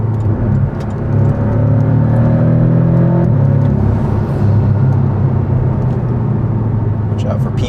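A 2019 Porsche 718 Cayman with PDK pulls hard in fourth gear around 4,000 RPM, a loud rising engine note that climbs for a few seconds, then settles into a steady road whir and rumble while someone talks over it.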